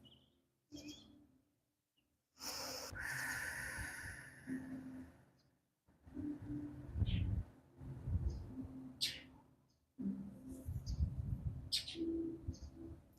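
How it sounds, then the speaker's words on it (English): Birds chirp and tweet in short scattered calls over a quiet outdoor background, some close and some farther off, with no talking. "Look at that, some bird noise to help us out."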